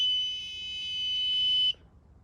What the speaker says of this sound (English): And here's the third time. The tone's going to go off.